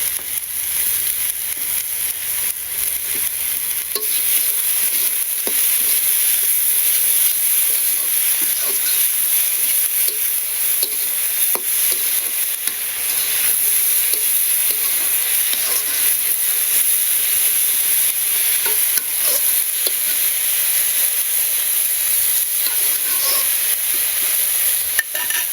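Potatoes and taro fry in a pan, a steady loud sizzle and hiss that holds close and constant throughout, with faint stirring scrapes and no talk.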